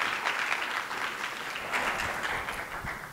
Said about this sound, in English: 11 seconds left to clap